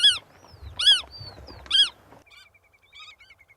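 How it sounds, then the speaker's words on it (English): Godwit parents give three loud, harsh calls close by, followed by fainter, higher chirping calls. No one speaks. "The parents are never very far away and they're very noisy."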